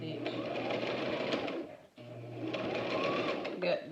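A sewing machine back stitches to reinforce a seam on a homemade face mask, its steady close whirring running in two bursts with a brief pause between them.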